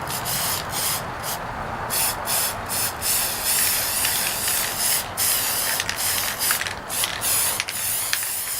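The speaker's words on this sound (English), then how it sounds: "So I'm going to spray it with the black spray paint and see what happens." Black spray paint hissing from an aerosol can onto an old picture frame being made into a vintage mirror, in steady bursts with short pauses between them, close and fairly loud.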